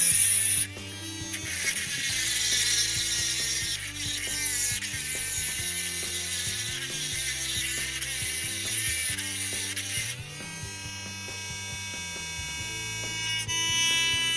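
A Dremel rotary tool runs a coarse 120-grit sanding drum with a continuous high whine and a rattling, ratchet-like texture, close and steady for about fourteen seconds, its pitch shifting a few times as pressure changes.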